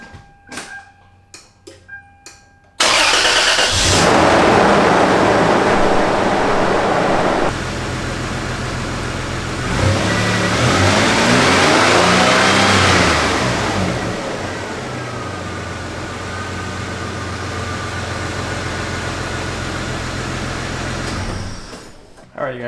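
A Toyota 4Runner engine cranks, catches and settles into a steady idle after an oil change, running loud and close for most of the stretch, with a brief rev and a drop in level near the end.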